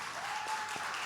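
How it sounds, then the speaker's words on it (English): An event audience gives a round of applause for the judges, a steady wash of many hands clapping at moderate distance, fairly quiet and unbroken. "Let's give them one more round of applause."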